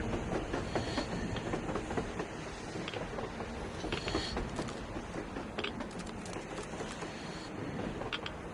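A train in the video game Metro Exodus rumbles past with steady clattering and rattling, loud and continuous throughout, with brief metallic clicks and squeaks on top.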